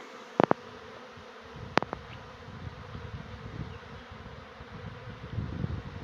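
Honeybees in a main apiary during a late spring, with rapeseed in bloom: a steady low insect hum runs through, broken by a few brief sharp clicks early on, close and fairly faint.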